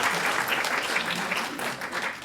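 Dense, continuous audience applause fills a talk venue, a steady wash of many hands clapping at even volume throughout.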